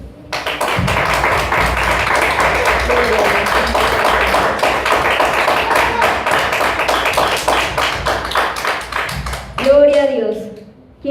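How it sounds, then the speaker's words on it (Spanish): A church congregation claps together in a sustained burst of applause for about nine seconds, dense and close. It fades near the end, when a voice briefly speaks. "Den un aplauso a Cristo."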